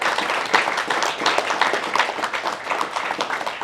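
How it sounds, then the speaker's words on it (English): Warm audience applause in a room after a fireside chat, a lively, fairly close spread of clapping that swells and stays full for several seconds. "Please, everyone, give him a round of applause."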